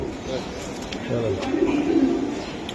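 Soft, low racing pigeon cooing rises and falls over a hissy background, with a voice murmuring nearby.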